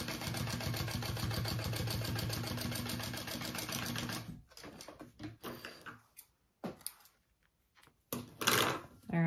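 A sewing machine runs a steady, rapid stitching burr as it sews a 3/8 inch seam on a triple-zip crossbody bag, then stops and gives way to scattered handling clicks and rustles.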